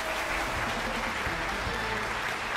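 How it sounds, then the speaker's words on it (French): Audience applause fills a studio hall at a live television talk show, a steady dense wash of clapping throughout, with voices and crowd murmur running underneath. "nous demandons d'applaudir tout s'il vous plaît"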